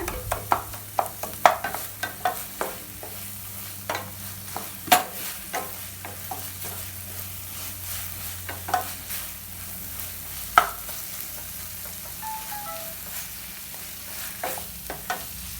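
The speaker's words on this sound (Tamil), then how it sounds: "இந்த வெங்காயம் தக்காளி எல்லாமே கரண்டியில் நல்லா மசிச்சு விட்டுருங்க" Onion and tomato mashed with a ladle in a frying pan for Tamil tomato rice, a steady run of soft scraping knocks and stirs over a low sizzle, fairly close and with no talk.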